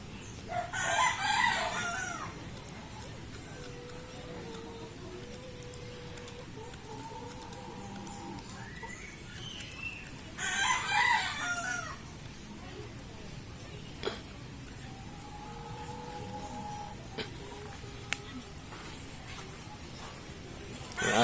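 A Rhode Island chicken crows loudly twice, with softer clucks and murmurs between the calls, in a quiet farmyard with some faint background noise.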